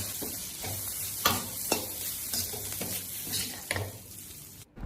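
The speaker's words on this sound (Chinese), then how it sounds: "继续给它翻炒均匀" Preserved mustard greens, seasoned with salt, light soy sauce and oyster sauce, are stir-fried in a wok: a steady loud sizzle with repeated scraping stirs and a few sharp clatters, no voices.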